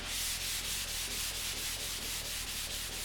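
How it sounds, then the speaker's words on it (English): Dry sanding of paint on the body of a 1994 Dodge Ram 2500 truck: steady, close abrasive rubbing with a rhythmic back-and-forth scratch, continuous and fairly loud with no voices. "I'm trying dry sanding on this project."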